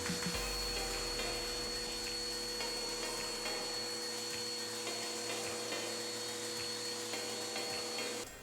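A vacuum cleaner hums steadily on a bare wooden stair step after the carpet has been pulled up, a fairly quiet, even motor whine with faint knocks of the nozzle against the wood.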